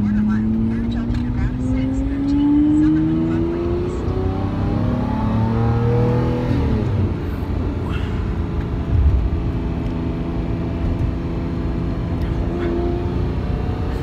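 A Lamborghini Murcielago engine revving and accelerating on a Las Vegas ride, a rising steady drone heard from inside the car while people talk.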